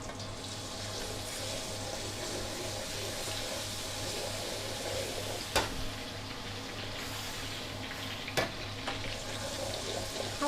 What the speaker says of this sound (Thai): เปิดน้ำมันสักนิดนึงค่ะ ใส่กระเทียมลงไปนะคะ